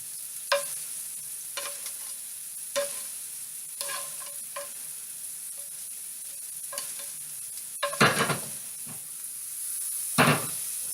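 Mushrooms frying in a skillet give a soft, steady sizzle under a run of sharp clicks and clatters from utensils being handled nearby, with a couple of louder bangs toward the end.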